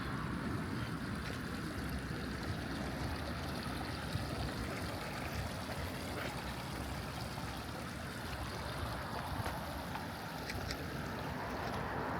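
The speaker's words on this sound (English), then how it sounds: "Look at that running water." Steady rushing water flows continuously in a small creek in Terrazza Park, Henderson, Nevada, a broad even wash of sound with no voices, close by.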